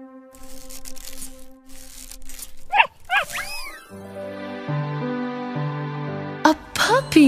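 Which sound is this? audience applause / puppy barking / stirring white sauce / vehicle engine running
puppy barking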